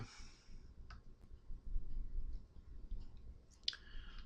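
Soft, close computer mouse clicks, a few isolated taps spaced irregularly over a quiet background, one sharper click near the end.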